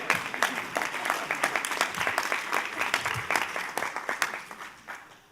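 Audience applause at a conference session on oceans and shore resilience, many hands clapping in a dense, even patter that swells briefly and then tapers off toward the end.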